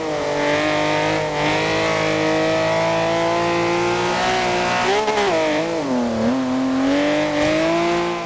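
A race car in Forza Horizon 2 driving on a wet road, its engine droning loudly and steadily, with the pitch rising and dipping as it shifts and revs through corners.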